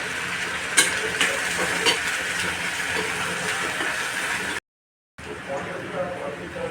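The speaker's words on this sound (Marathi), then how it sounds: "4-5 कढीपत्त्याची पाने टाकते. 2 हिरव्या मिरच्या टाकते." Curry leaves and green chillies sizzling in hot oil with chopped onion, a steady loud hiss and crackle with occasional pops, briefly cut to silence, then resuming; someone talks over it.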